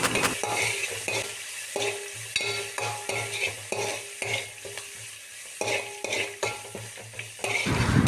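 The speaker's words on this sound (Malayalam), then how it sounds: "ഇതെല്ലാം കൂടി ആദ്യം തന്നെ വഴറ്റിയെടുക്കുന്നുണ്ട്" Onion, garlic and green chili sauté in coconut oil under steady loud frying, with a spatula scraping the pan again and again in an even rhythm, close and clear with no speech.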